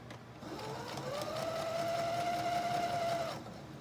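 A sewing machine stitching a zippered pouch, its steady mechanical whir rising and holding for roughly three seconds before slowing, quiet and close with no talk.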